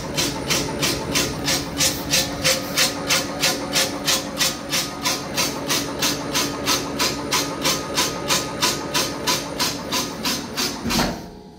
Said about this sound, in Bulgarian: Пускаме машината.